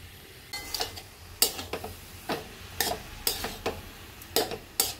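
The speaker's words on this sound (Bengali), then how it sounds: "এটা যতক্ষণ না জল ভাবটা কাটবে ততক্ষণ আমি নাড়তে থাকবো" A spoon repeatedly scrapes and knocks through a cauliflower paratha filling in a pan, making soft, regular strokes about every half second over a faint background hiss, with no talking.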